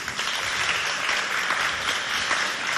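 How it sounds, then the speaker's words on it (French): Steady, even applause from an audience fills the room throughout, moderately loud and unbroken, at a school contest between Lycée de Habena and Complexe Oumar Khayar Defallah. "Est-ce qu'on peut l'applaudir bien fort?"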